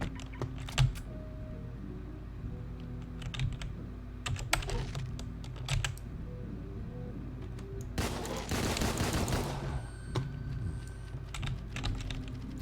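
Gunfire from a 9mm pistol in the video game DeadBolt, with scattered sharp shots and a dense burst of firing late on, all over steady computer keyboard clicking and typing, with no one talking.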